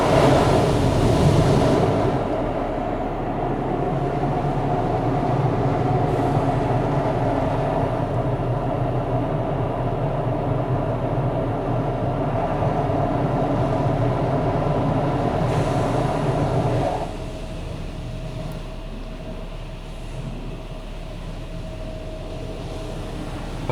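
Soft-touch brushes of a Mark VII car wash scrub over a Jeep at a Sunoco station in Germantown, MD, with a steady, loud rumbling whir of machinery that drops to a quieter hum near the end.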